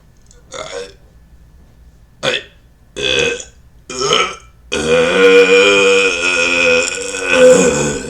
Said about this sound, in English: Let out the largest belch that you've never heard.